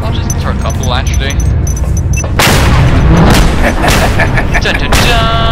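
Explosions blowing up a crane in Just Cause 2, heavy booming blasts with crackling debris that swell in the second half, loud and close under someone talking throughout.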